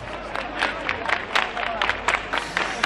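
A crowd at the Rocío pilgrimage procession in Spain claps with raised hands to call the Virgin: sharp, fairly close claps in a quick, uneven rhythm over a low murmur of voices.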